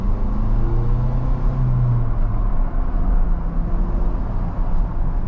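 A 2022 Ford Bronco Badlands with a 7-speed manual and turbo engine accelerates, giving a steady low engine rumble with a rising tone midway, heard close from the cabin without talk.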